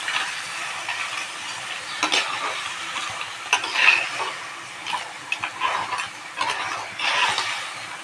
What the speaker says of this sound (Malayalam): ഞണ്ടിട്ട് കൊടുക്കുന്നുണ്ട്.